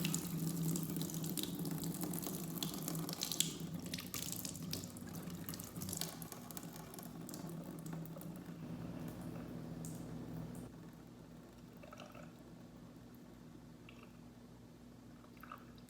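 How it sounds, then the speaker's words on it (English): Water glugs and splashes as it pours out of a jar, a continuous sloshing that fades to quieter trickles toward the end. "I dump the water out"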